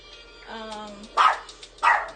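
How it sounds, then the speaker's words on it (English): A chihuahua indoors reacts to a visitor with a short whiny yelp followed by two sharp, close, high-pitched barks spaced about half a second apart. "She's just barking."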